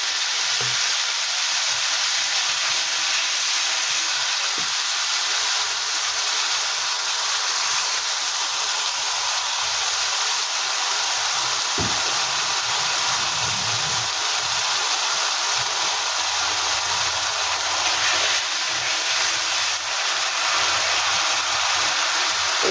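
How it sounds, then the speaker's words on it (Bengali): Dried chilli, cumin and a paste of onion, ginger, garlic, green chilli and tomato fry in hot oil, producing a loud, steady hiss that stays constant from start to finish. "তেল গরম হয়ে গেছে লঙ্কা দিলাম শুকনো লঙ্কা জিরে দিলাম তারপরে যে মশলাটা করেছি সেই মশলাটা দিয়ে দিলাম"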